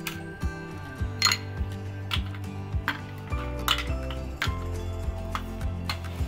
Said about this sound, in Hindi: अब इसमें हम डालेंगे बर्फ